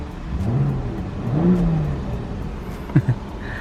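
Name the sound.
car engine revving at quarter throttle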